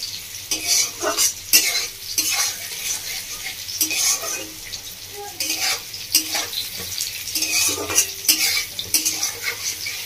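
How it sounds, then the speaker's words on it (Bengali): Pieces of pointed gourd fry in a pan with a steady sizzle, broken by frequent scraping stirs of a spatula against the metal, close and clear with no talking. "এই পটলটা ভাজা ভাজা হয়ে এসছে"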